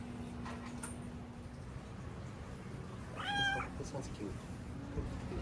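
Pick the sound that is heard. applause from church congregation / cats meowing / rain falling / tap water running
cats meowing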